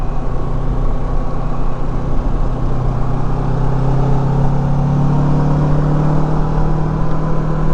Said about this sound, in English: You are riding on the 650 Kawasaki 2019 Versys.